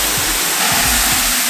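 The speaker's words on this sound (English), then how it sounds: "we're gonna fill this orange bucket up with soap and water" Water pours forcefully into an orange bucket filled with soap and water for car washing, a loud, close, steady gushing hiss with faint sloshing underneath.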